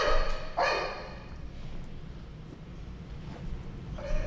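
An anxious dog barks repeatedly inside a kennel, sharp loud barks at the start and again near the end, over steady rattling and scuffling from the enclosure.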